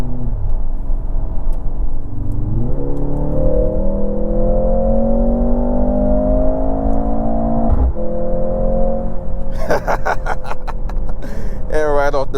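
A Mercedes GLC43 AMG engine in sport mode accelerates from close inside the cabin, its pitch climbing, dropping at a shift, then climbing again. A voice talks over it.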